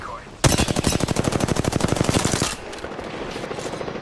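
Rapid automatic gunfire in the battle-royale game Apex Legends, a loud sustained burst of about two seconds with evenly spaced shots, then quieter game ambience.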